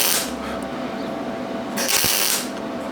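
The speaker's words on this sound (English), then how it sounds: "Running some stitch welds across it." Stitch welds laid across cheap, thin metal on a utility trailer ramp give a steady crackling hiss, swelling into a brighter burst near the two-second mark.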